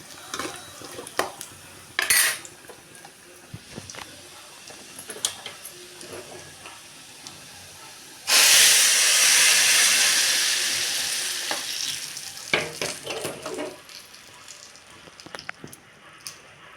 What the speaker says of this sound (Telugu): రెండు తాలింపు అయితే పెట్టేసుకుంటున్నాను పప్పు